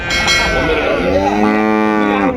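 Cows at a village cattle market in Palamaner lowing loudly and close by, one long drawn-out moo with a shifting pitch, over faint crowd background.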